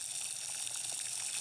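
Water boils with a dense, steady hiss and bubbling, loud and close, with no pauses.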